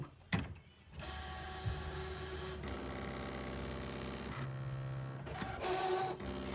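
A ScanNCut machine cutting fabric whirs steadily with a mechanical, printer-like drone, with short stops and shifts in pitch as the blade carriage moves back and forth, close and with no voices.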